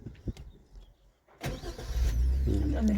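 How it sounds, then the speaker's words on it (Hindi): A car engine cranks and starts with a rising roar during a driving lesson in Ranchi, settling into a loud, steady idle after a quieter stretch with a few soft knocks. "चलिए क्लच दाबिए, स्टार्ट करिए।"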